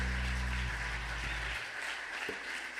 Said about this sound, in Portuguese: Dá aí um aplauso ao Senhor.